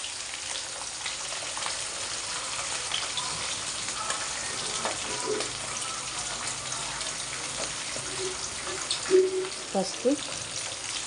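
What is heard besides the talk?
frying peanuts and green chillies in a pan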